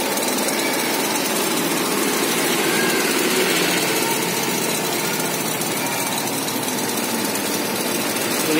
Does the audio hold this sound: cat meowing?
no